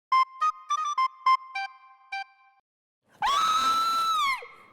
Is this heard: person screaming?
yes